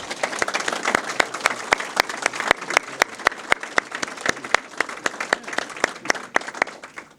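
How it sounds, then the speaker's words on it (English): Sparse applause for the speakers at a Baltimore County Police Department anniversary ceremony: a modest crowd claps with distinct, sharp individual claps over a steady wash, fairly close and continuous throughout. "Can I get one more round of applause for all the speakers today"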